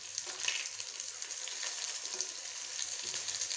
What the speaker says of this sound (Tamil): எண்ணெயில் நல்லா பொரிஞ்சிருச்சு.